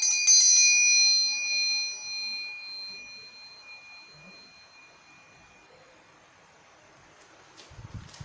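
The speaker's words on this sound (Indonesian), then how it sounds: "ditandai lonceng berbunyi" A bright bell rings clearly at the start, then its tone slowly decays and fades into near silence, with a faint rustle at the end.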